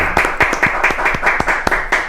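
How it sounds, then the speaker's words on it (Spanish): Audience at a panel talk on energy generation gives a short burst of applause, crisp individual claps ringing out in a loose, uneven rhythm from a modest crowd. "quiero un aplauso para Alberto Acosta Garbarino"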